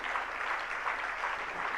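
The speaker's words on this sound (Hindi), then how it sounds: "जरा जोरदार तालियां" A large audience at a Jain religious discourse gathering bursts into a brief, dense round of steady clapping, even and continuous throughout.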